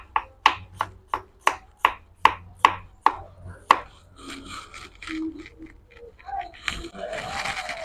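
Shallots and garlic sliced on a cutting board, giving about a dozen crisp, evenly spaced knife chops up close, then softer scraping and rustling.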